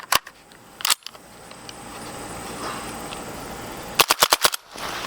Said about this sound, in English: Let's try some 300 Blackout subs. We'll be shooting Winchester Super Suppressed 200 grain subs.